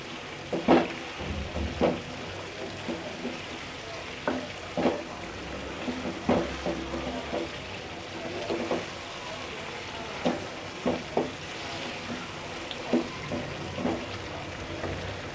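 Chicken biryani masala with eight dried plums (aloo bukhara) stirred in a pot, a low frying sizzle punctuated by irregular scrapes and knocks of the spoon throughout.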